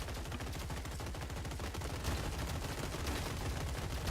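Continuous, dense machine-gun fire from robots in the strategy game Gladiabots, a steady rattling stream of rapid shots throughout with no talking.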